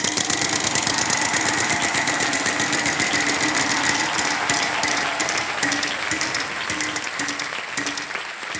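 The Wheel of Fortune game show wheel spins with dense, rapid clicking that runs loud and steady for about nine seconds, set against a noisy studio background.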